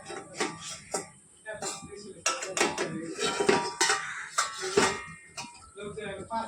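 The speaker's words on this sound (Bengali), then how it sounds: "দেখুন, 5 মিনিট পর ঢাকাটা আমি খুলব।" A lid lifted off a pot of shukto simmering vegetables, with irregular metallic clinks and clatters of utensils close by, some faint voice in between.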